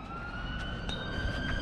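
A police car siren wails near a construction site at night, a steady, fairly clear, unbroken tone with faint background noise and no talk.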